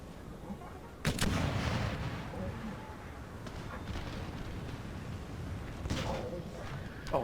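Naval cannons in Empire Total War, British warships in battle, fire a heavy boom at about one second and another near six, over a rumbling battle bed with faint voices.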